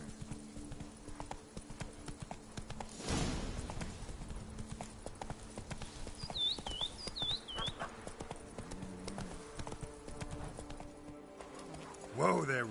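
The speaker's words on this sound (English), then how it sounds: "Whoa there, Roach." Horse hooves clip-clopping steadily as Roach trots in The Witcher 3: Blood and Wine, a continuous close rhythmic beat under game voices and background sounds.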